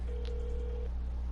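An outgoing phone call rings out with a single steady ring tone just under a second long, faint and alone over a low constant hum.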